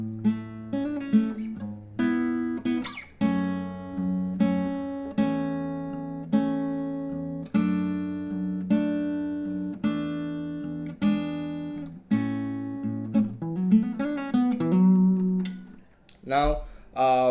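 Acoustic guitar fingerpicks the third break of a song, with steady plucked chords and bass notes ringing out close and clear, alone, ending in a brief thump.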